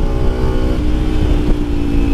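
A Kawasaki Ninja 250 FI motorcycle with an aftermarket exhaust setup is pulled hard in gear, its engine giving a loud, close, steady revving drone with a strong harmonic tone and no voices.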